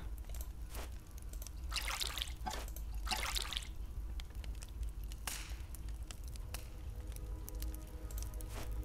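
Water being poured in a hidden-object adventure game: several short bursts of splashing liquid, each lasting under a second, over a low steady background hum.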